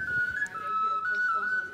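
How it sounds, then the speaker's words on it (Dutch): A whistle from a museum audio tour about Paleis Lofen gives one steady, slightly wavering tone that lasts under two seconds over a faint background. "Oké, het fluitje is leuk, ja."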